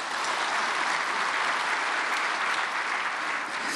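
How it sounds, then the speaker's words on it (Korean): An audience at a church prayer meeting welcomes a guest lecturer with warm, continuous applause, a thick, even wash of clapping throughout. "우리 강사님 박수로 뜨겁게 환영하겠습니다"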